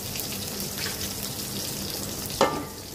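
Onions fry in oil for a tempering meant for a snakehead fish and bean-seed curry, giving a soft, continuous sizzle with one brief clatter near the end.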